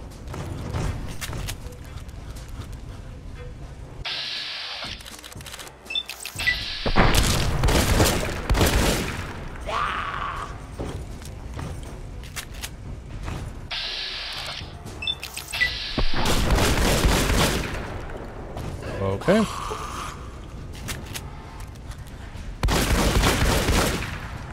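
Shotgun blasts and explosions in the video game Fallout: Tale of Two Wastelands, Mojave setting, come as repeated loud bursts scattered over the stretch, with quieter gaps between them.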